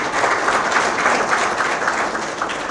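Steady, dense applause from an audience at a press breakfast for the Dakar city basketball club, filling the room evenly and loudly throughout with no talk over it.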